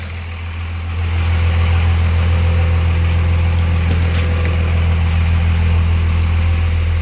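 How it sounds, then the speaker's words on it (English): A Cummins diesel engine with a fault idles at 828 RPM, starting quieter and then settling into a loud, steady low rumble up close, with no talk over it. "Now I got nothing but idle. 828 RPMs."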